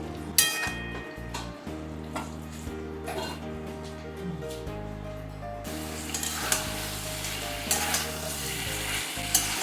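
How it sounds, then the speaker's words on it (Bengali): Bitter gourd curry sizzles in a pan after the lid comes off, with stirring scrapes and clinks over a steady fry, while background music plays throughout. "মাঝখানে একবার ঢাকা খুলে আমি এটা নেড়ে দিলাম"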